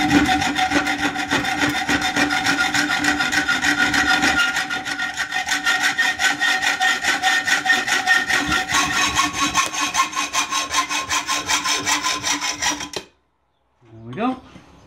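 A knife blank clamped in a vise is hand-sawn with fast, steady, rhythmic back-and-forth strokes, close and loud for about thirteen seconds, then the cutting stops and a voice is briefly heard.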